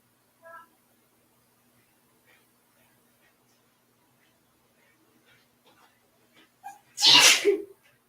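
A single loud sneeze close by after a long near-silent stretch with faint movement noises.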